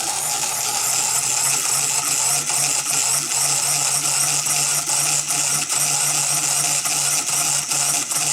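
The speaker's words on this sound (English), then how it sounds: "the intermittent engine noise, it doesn't bother me" A loud, continuous mechanical engine drone with a rapid ratcheting rattle and periodic faint surges, running without pause.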